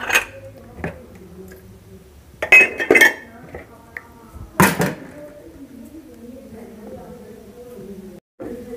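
Pots, pans and utensils clink and clatter as they are put away in a home kitchen, with sharp loud clanks at irregular moments while someone talks.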